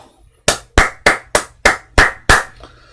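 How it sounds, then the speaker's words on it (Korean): Seven sharp, evenly spaced claps ring out alone, loud and close, a short round of applause for Samsung Electronics staff praised for strong quarterly earnings. "우리 열심히 일한 삼성전자 임직원분들에게 박수 한번 보내주시죠"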